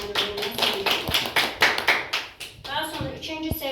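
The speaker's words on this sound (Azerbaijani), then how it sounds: "Alqışlayaq uşaqlar" A 4th-grade class claps together in an open lesson, a run of quick, fairly loud hand claps with rhythmic bursts and a little children's chatter mixed in.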